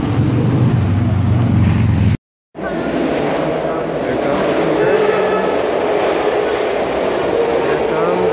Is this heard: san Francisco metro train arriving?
yes